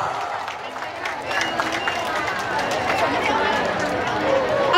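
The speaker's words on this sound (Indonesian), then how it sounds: "kita berikan sambutan selamat datang dengan tepuk tangan yang sangat meriah untuk Gendra Suling Gita Jalatorna" Dense crowd noise with steady clapping and chatter rises and holds throughout, an audience applauding to welcome the Genderang Suling Gita Jala Taruna naval drum band at a Tulungagung city anniversary event.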